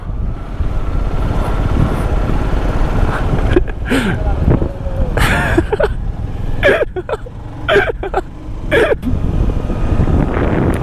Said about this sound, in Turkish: Gerçi ben motorda olduğum için esiyor.